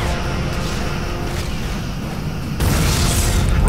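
A Romulan ship exploding in Star Trek: Legacy, a dense roaring blast that rumbles on and surges louder near the end, loud and close.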